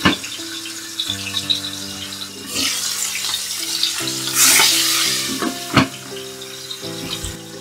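Koi fish fry in hot oil over a high gas flame for a traditional Bengali tel koi, producing a loud, close sizzle that swells into a bright spitting burst midway, with a few sharp crackles and pops.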